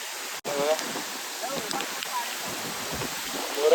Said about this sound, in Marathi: पाऊस जोरात चालू आहे आणि हे बघा पूर्ण पाण्याचे झरे बघा